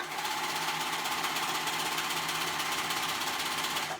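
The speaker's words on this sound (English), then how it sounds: "I'm going to go ahead and sew around that raw edge on the outside." A sewing machine runs steadily around the raw outer edge of a fabric top, a continuous close mechanical whir with a fast even stitching rhythm for about four seconds.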